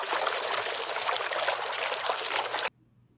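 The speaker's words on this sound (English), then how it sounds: "Not the waterfall." A waterfall sound effect, a steady hiss of rushing, pouring water for a few seconds that cuts off abruptly, leaving near silence.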